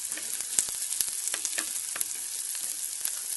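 Asparagus softening in a hot frying pan, for an omelet, gives a steady, close sizzle with crackling pops and scattered sharp spatters throughout, no voices.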